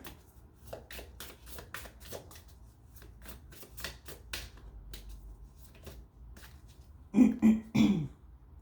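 Tarot cards handled and shuffled during a reading, a run of soft crisp flicks and riffles close by, ending in a few louder slaps as the cards are laid down, with no talking.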